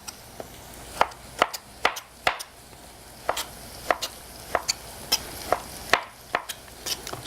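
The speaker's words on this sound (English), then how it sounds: "we're just going to chop our tomato" A knife chopping tomatoes into big pieces on a cutting board for rustic tomato soup, a steady series of crisp close taps, about a dozen over several seconds.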